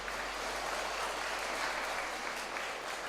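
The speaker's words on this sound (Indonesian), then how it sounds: "Kita tepuk tangan untuk mereka" Congregation applauding the children who took part during an Easter Sunday Mass in church, a steady wash of clapping filling the whole stretch with no speech.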